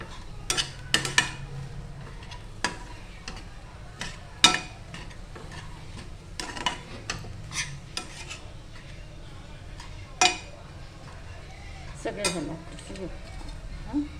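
A spoon stirs and scrapes a vada pav potato spice filling in a metal pan, giving intermittent close clinks and scrapes over a soft background sizzle, with occasional speech.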